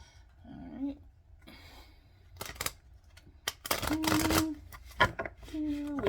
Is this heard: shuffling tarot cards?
yes